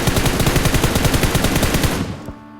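Rapid automatic gunfire from PUBG Mobile, a loud continuous burst of closely spaced shots for about two seconds, then a quick fade with faint ringing tail.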